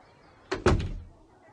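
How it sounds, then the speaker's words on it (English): A door swings shut with a solid thump and a brief rattle, close by and loud in an otherwise quiet room, with no one speaking. "And the woman closed the door."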